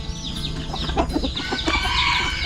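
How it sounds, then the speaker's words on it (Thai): Chickens clucking at a rural hillside home, several close, steady clucks and calls that carry on throughout, with no voices. "อ๋อเลี้ยงแต่ไก่เนาะ"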